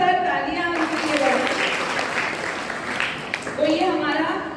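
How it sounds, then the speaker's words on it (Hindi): Schoolgirl quiz contestants in a Gandhi-themed quiz get a burst of group applause, sustained clapping filling the room between stretches of a speaking voice at the start and end. "जोरदार तालियां उनके लिए।"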